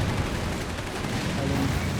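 Dense, continuous rumble of an enemy artillery barrage in Company of Heroes 3, booming shell impacts blending into a steady low roar that stays loud throughout, with a voice faintly audible beneath it.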